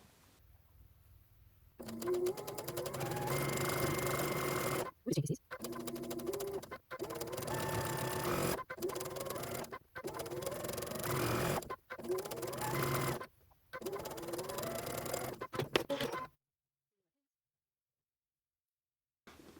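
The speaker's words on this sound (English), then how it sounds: "we're going to sew a 1/4 inch seam allowance down that long edge" A sewing machine runs a quarter-inch seam down the long edge of quilt triangle units, loud and close, in several bursts of steady stitching separated by brief pauses before falling silent.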